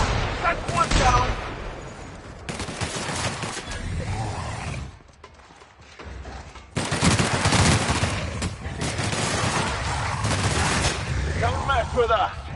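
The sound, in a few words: gunfire in a video game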